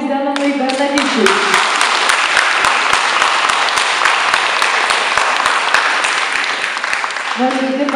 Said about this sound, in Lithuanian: Nuoširdi padėka ir garsus mūsų plojimai.